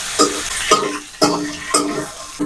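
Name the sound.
frying spices in a pan for jeera rice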